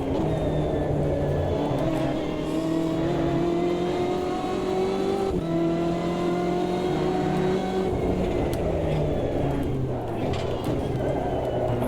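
In the racing game Automobilista 2, a race car engine drones and shifts pitch through gears at steady speed, with occasional brief thumps and rattles as the wheels ride over kerbs.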